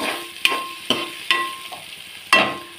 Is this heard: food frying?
yes